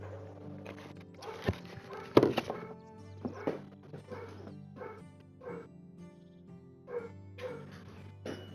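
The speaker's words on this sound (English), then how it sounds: "I'm gonna have to go tell the dog to be quiet because he's barking at our neighbors who are currently just talking outside" A pet dog indoors barks at neighbours talking outside, giving a burst of sharp yips and woofs followed by scattered whimpers and short barks, fairly close and moderately loud, with quiet gaps between.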